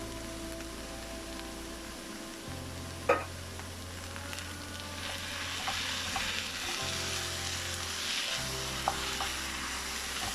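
Chopped tinned tomatoes sizzle and fry steadily in a hot pan of vegan burrito filling, a continuous crackling hiss with occasional stirring clicks and a low hum underneath.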